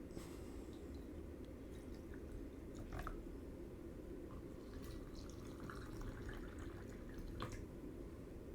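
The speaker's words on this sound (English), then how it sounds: "Then I fill them up with water." Water is poured into two glasses holding tea filters, producing a faint, quiet trickle with a few soft drips and splashes over a low, steady background hum.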